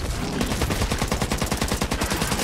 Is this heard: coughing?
no